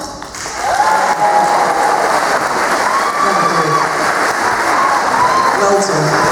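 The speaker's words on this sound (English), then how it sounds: "great big round of applause if he gets this, guys" Audience applause and cheering at a live animal feeding demonstration, a steady crowd clapping throughout with whistles and voices mixed in.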